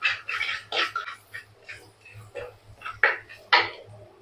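Green chillies and curry leaves being sautéed for a Kerala sardine curry make a rhythmic series of close scraping and clinking spatula strokes in a pan, with a faint low hum underneath and no clear sizzle.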